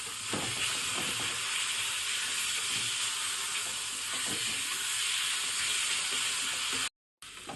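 Chopped chili, tomato, eggplant and roasted garlic fry together in a pan, giving a steady, close, loud sizzle with faint stirring scrapes throughout and a brief gap near the end.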